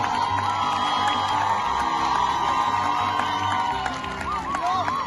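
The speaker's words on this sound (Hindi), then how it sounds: "भरपूर तालियों में इस्तकबाल करें सैयद वसीम शाह।" A large crowd cheers and claps steadily, with whoops and shouts rising over continuous applause throughout.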